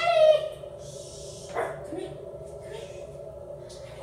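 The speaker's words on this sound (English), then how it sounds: "That's Teddy barking" A dog barks and yips a few times indoors in a hotel bathroom, the short cries coming through a steady background hum.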